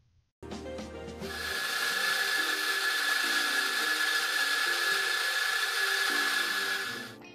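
An espresso coffee grinder grinding beans, starting with a short low clatter, then a steady loud whirring grind with a sustained high whine that holds for several seconds before stopping.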